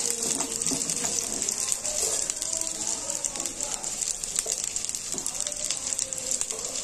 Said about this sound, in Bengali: সাদা তেল গরম হয়ে গেছে, আমি একে একে সব সবজিগুলো দিয়ে দেবো।